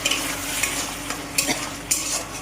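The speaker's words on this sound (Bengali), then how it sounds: "মশলা এবং আলু ভালো করে কষিয়ে নিচ্ছে" Potatoes and spices stir-fried in a pan, dry spice paste clinging as a utensil scrapes and stirs, with a steady low sizzle broken by several sharp scraping clacks.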